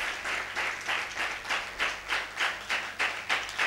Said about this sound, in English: Can we have a big round of applause for her, please?